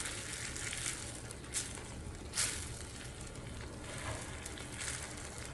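Salt and red chili powder are stirred into menemen in a pan, with a soft, faint sizzle throughout and a couple of brief scraping stirs, close and alone.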